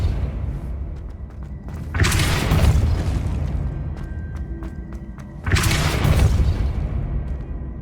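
Depulso spell blasts in Hogwarts Legacy come as two loud, bright bursts roughly three and a half seconds apart, each ringing on briefly, over a steady low rumble with scattered small clicks and no talking.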